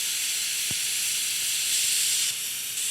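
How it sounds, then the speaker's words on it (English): Steam hisses steadily and loudly from the release valve of a pressure cooker while stock is being made, a dense continuous rush with a brief click near the start and no voices. "To release that further, just push on this particular pressure cooker. This releases the steam."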